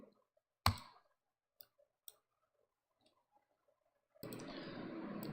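One sharp, close mouse click lands on an OK button, followed by a few faint ticks and quiet clicks in near silence before a steady hiss of background noise sets in.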